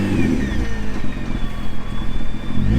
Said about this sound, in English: But now let's take a listen of how it sounds.